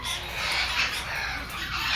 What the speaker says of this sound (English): Oh, the birds are whistling?